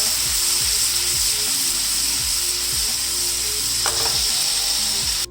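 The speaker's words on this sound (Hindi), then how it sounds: "इन सारी चीज़ों को अच्छी तरह से हिला लेना एक दफ़ा।" A seasoned seekh kabab mixture fries in a pan with a loud, continuous sizzle, and a steady low mechanical hum runs underneath.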